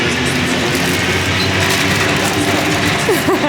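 A Paris metro train rolls along at a steady, loud roar with rumbling and rattling throughout, a faint voice briefly audible near the end.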